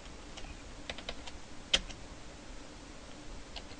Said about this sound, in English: type everything exactly as you see it typed right over here